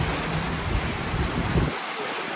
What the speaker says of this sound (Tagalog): Ito, hindi lang ulan, bagyo pa.